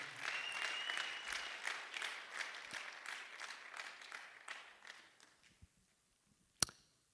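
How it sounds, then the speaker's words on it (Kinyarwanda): A church congregation claps together in sustained, dense applause that gradually thins and tapers off, followed by a single sharp clap or knock near the end. "Mumukomera amashyi uwo Mwami."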